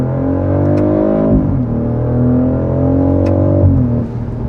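2025 BMW X3 M50 mild-hybrid engine accelerating hard from inside the cabin, a loud steady growl that climbs in pitch, drops briefly at each gear change, then rises again.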